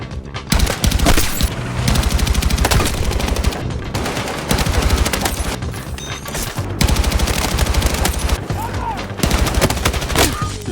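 Rapid bursts of automatic gunfire from a first-person shooter game, loud and nearly continuous over about ten seconds, with brief gaps between volleys and a voice talking over it.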